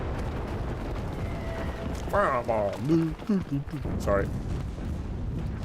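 A 75mm cannon and gunfire rumble from a battle in the video game Enlisted, heard as a steady low background under a nearby voice that talks over the middle of the clip.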